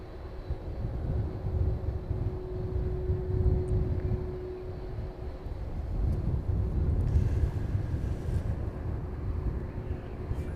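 Aircraft taxiing toward runway 27 at East Midlands Airport, a faint, distant low engine rumble with a steady hum that swells slightly toward the end.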